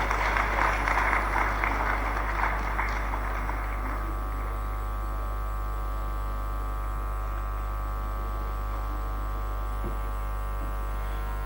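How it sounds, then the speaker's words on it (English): Audience applause at a state-chapter medical conference, a broad wash of clapping for the first few seconds that fades out, leaving a steady electrical hum in the hall. "Can we all give a huge round of applause,"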